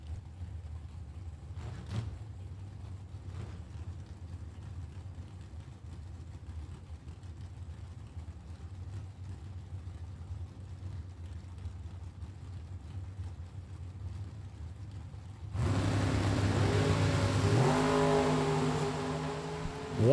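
Drag race cars, including an Oldsmobile, at a Super Pro bracket race: a low engine drone for most of the stretch, then a loud roaring launch that surges and revs near the end.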